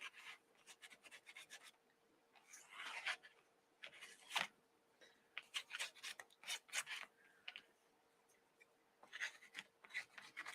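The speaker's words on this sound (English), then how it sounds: "just be gentle with your scraping" Repeated gentle scraping and rubbing strokes come in uneven bursts during a nature-based eco printing session, close and fairly quiet, with a faint steady hum underneath.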